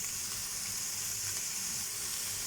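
Pak choy sautéing in a pan gives off a steady, loud, close sizzle that hisses the whole time without a break.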